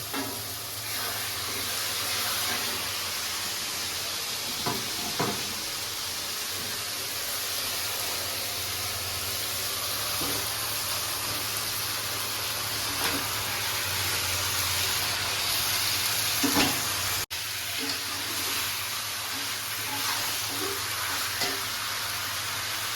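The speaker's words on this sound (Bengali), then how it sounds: "এবার আমি এই মশলার মধ্যে মাংসগুলো এবার দিয়ে দেবো।" Chicken pieces of a desi hen are added to a fried spice paste and sizzle in oil, a steady moderate hiss with occasional stirring scrapes and clinks, no talking.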